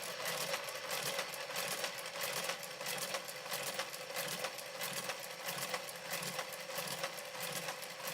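A Brother KH 950i knitting machine with its KG 95 garter carriage runs in a steady, rapid mechanical clatter of rhythmic ticks, constant and close throughout with no talking.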